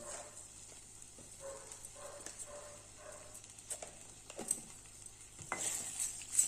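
Rice dish with cowpeas being stirred and mixed in a pot, with soft, irregular scraping and shuffling strokes at low volume, growing a little louder toward the end, no voices.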